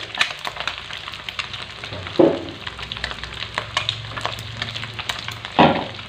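Chilies drop into fried rice with petai frying in a pan, giving a steady close sizzle with a few sharp louder crackles and bursts of spatter as the pieces hit the hot oil.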